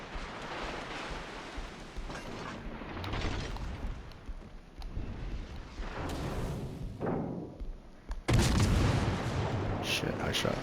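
Naval guns boom repeatedly in a warship video game battle, heavy blasts and rumbling explosions layered over constant sea and engine noise, growing louder and denser toward the end.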